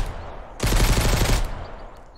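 Gunfire in Mist Survival during a fight with bandits in a cornfield, a quick burst of rapid shots lasting under a second, loud and close against quiet background.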